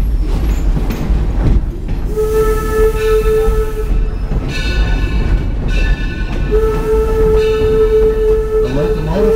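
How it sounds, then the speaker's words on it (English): A historic steam locomotive, the Birch Lake, pulls a train rumbling steadily along the rails, with a sustained whistle tone sounding twice over the continuous low rolling noise. "The locomotive pulling our train today is the historic Birch Lake, oldest continually working locomotive in the United States."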